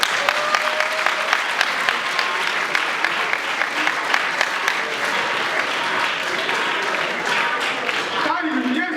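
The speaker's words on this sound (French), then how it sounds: "Vous pouvez applaudir pour lui." An audience at a political gathering honouring Etienne Tshisekedi breaks into sustained, dense clapping that fades out near the end.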